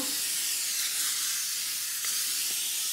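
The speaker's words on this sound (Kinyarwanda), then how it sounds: "Tugiye gutera amavuta ku kantu ko kuzotsaho" Cooking oil is sprayed onto a baking tray before goat meat goes into the oven, a continuous close hissing spray lasting the whole stretch with no talk.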